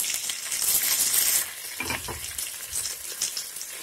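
Onion, tomato, mint and coriander sauté in oil for coconut milk pulao, a bright hiss that is loudest at first, then settles into a softer sizzle with a few scraping stirs.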